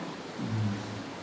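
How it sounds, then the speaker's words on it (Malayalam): Heavy monsoon rain falls nonstop as a faint, even hiss with a low rumble underneath, heard alone without voices. "ഇങ്ങനെ നിൽക്കാതെ മഴ പെയ്താലും പ്രശ്നമാണ്."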